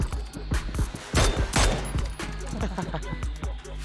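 Rapid gunfire in the shooting game PUBG, with bursts of close, loud shots in quick succession and a sharp volley in the middle, while a player talks over the action.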